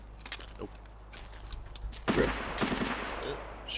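Gunfire in a first-person shooter game, faint scattered shots and short bursts at a distance, with a louder cluster near the end over a low background hum.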